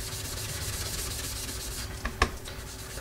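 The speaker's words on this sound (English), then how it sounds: "So we're going to sponge this in, doing a circular motion." A sponge rubs ink onto paper for card making, pressed hard in circular motions and giving a steady soft scrubbing texture, close and continuous, with a couple of sharper taps near the end.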